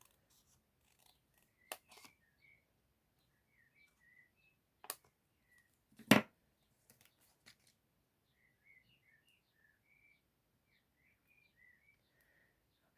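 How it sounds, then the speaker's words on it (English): A single pair of scissors cuts through card for a handmade greeting card, giving a few sparse, quiet snips with one louder cut near the middle, while faint birdsong chirps in the background of a quiet room. "I might just cut along here."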